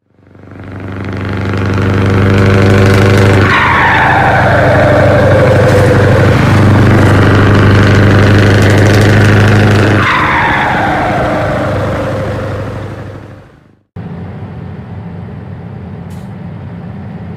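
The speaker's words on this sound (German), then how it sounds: "Das Geräusch aus der Ferne klang eindeutig nach einem V8." Loud, steady rumble of a distant V8 engine in a truck-driving video game, with a strong low drone and falling pitch sweeps, then an abrupt cut to quieter engine noise.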